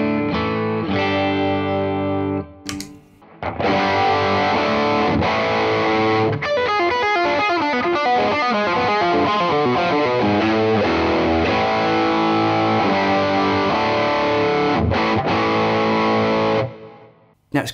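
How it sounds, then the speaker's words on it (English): A loud, close electric guitar played without the drive pedal switched on mixes chords and single-note phrases, has a couple of brief pauses, carries some effect coloring, and rings out at the end. "So here's my tone without the drive."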